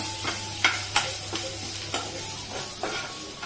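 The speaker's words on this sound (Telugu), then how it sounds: "చికెన్ మొత్తం నీట్ గా ఫ్రై అయిపోయింది, జ్యూసీగా." Chicken pieces frying in a pan with a steady sizzle, stirred with a utensil in a few sharp scraping knocks spaced through the clip, close and moderately loud with no talking.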